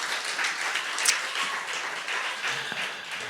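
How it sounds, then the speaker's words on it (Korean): A church congregation claps together for a few seconds during a Sunday morning service, with steady, even applause and no voices over it. "우리 박수 한번 하겠습니다."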